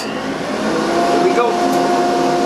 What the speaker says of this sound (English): turn on the blower so I don't have to eat all that dust